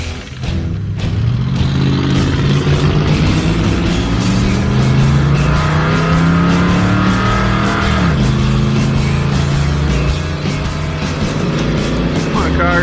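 A 1976 Dodge Dart with a 318 V8 running down a drag strip with ignition backed off to 35 degrees, loud continuous engine roar climbing in pitch through the gears, with a shift dip near the end.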